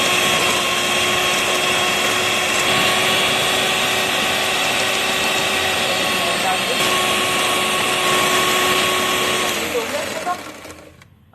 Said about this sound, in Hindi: सबसे पहले देखें बटर और शुगर को बीट कर लेंगे